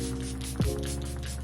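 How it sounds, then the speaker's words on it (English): Charlotte Tilbury Airbrush Flawless Setting Spray is misted onto a face in one short, soft burst over a steady background hum. "This is the Charlotte Tilbury Airbrush Flawless Setting Spray"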